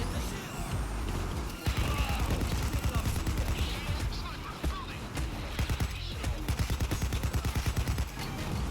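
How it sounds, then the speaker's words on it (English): Rapid automatic AK-762 rifle fire in the video game Payday 2, dense bursts of loud shots that grow into a steady rattling stream toward the end, mixed with other game noise. "with the AK-762, it tears through dozers so easily"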